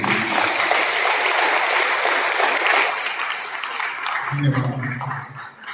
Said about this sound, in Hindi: लोग एक बार ताली बजा दीजिए।